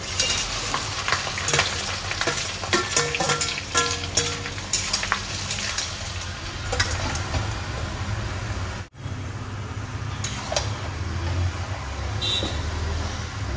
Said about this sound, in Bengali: পায়েস ঘাটলে এরকম দাঁড়িয়ে থাকতে হবে, একটুও নড়া যাবে না।